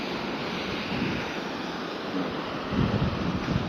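Sea waves wash along the Rayong coast in Thailand as a steady, dense roar with gusting wind noise on the microphone and a slight surge near the end, with no voices.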